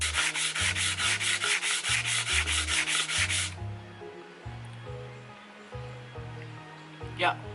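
Hand sanding on wood with grade 80 sandpaper gives rhythmic rubbing strokes for several seconds, then fades to quieter scraping and brief scuffs, with a low musical background underneath.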